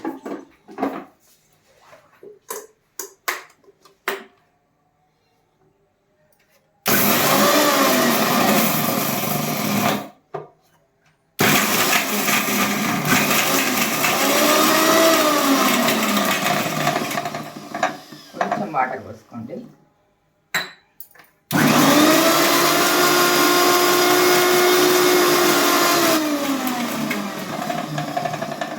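A mixer grinder blending green chutney, running in three long loud bursts with whining motor pitch rising and falling, separated by pauses with clinks and brief talking.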